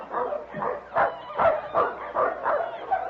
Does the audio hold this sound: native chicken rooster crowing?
no